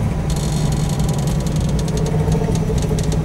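A 1967 Ford Mustang GT500 engine turning over at low revs in sixth gear while cruising, a steady, loud, deep rumble with a constant mechanical drone and no voices over it.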